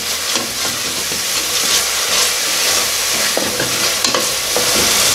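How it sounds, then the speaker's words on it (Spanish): Constant sizzling of Peruvian ají chili paste frying slowly in a pan, with occasional stirring scrapes and crackles, close and fairly loud, no voices. "y vamos a seguir friendo muy lentamente"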